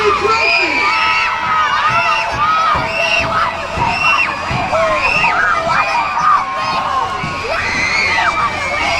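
A crowd of kids and adults at an All Star Monster Truck Tour show in Meyersdale, Pennsylvania screams and cheers loudly, with overlapping high-pitched shrieks rising and falling in waves and close, energetic yelling throughout.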